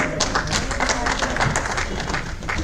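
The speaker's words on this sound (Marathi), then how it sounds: "दामोदर सरांसाठी जोरदार टाळ्या वाजल्या पाहिजे" An audience at a literary conference's poetry award ceremony claps loudly and steadily, a thick continuous patter of many hands applauding a poet being honoured.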